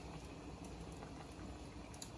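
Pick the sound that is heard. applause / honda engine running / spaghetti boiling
spaghetti boiling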